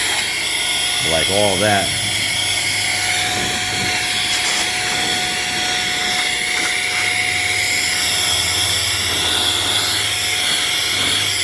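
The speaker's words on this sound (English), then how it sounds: "if you have your workbench and you want it to blow off anything on here, you know, this will clean your workbench" A HŌM electric air duster blowing off a workbench, giving a loud, steady high-pitched whine and hiss that runs the whole time, with a person talking briefly over it.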